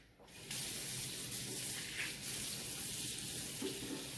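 Cold water from a tap sprays over blue crabs in a sink, starting abruptly after a short quiet moment and then running as a steady, close splashing hiss.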